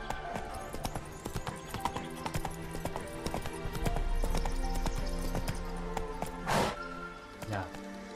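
Roach, the horse in The Witcher 3, gallops with rhythmic clip-clopping hooves, close and fairly loud. Game music plays beneath, with a couple of brief louder bursts near the end.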